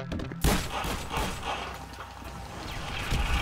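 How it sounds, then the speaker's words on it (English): Shotgun blasts in GTA 5 Online, with a sharp loud report near the start and more shots and mechanical clatter in a busy mix, without talk. "I'm only using the shotgun because I'm out of ammo with everything else"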